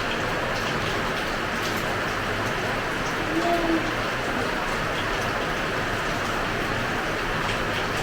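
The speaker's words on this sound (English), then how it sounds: "This is the first time rain is falling for 2023." Steady broadband hiss of rain falling in Ghana throughout, an even wash of sound with no distinct drops standing out, constant and moderately loud.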